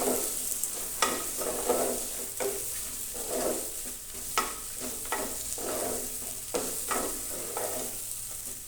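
A spoon stirs bitter gourd curry with melting jaggery and garlic chutney in a pan, giving repeated scraping strokes roughly every second over a steady close sizzle, with no talk.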